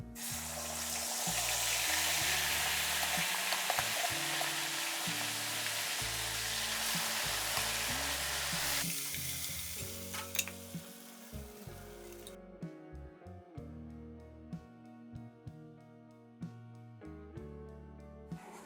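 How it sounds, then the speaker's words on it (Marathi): Ground masala hits hot oil in an iron kadhai and sizzles loudly and steadily for about ten seconds, then the hiss fades away, leaving quieter irregular clicks and knocks of stirring. "तेल व्यवस्थित तापत आहे आपलं तेल जे आहे ते व्यवस्थित तापलेलं आहे आणि आपण जो मसाला आता वाटून बारीक करून घेतलेला होता तो यामध्ये घालून घेऊ"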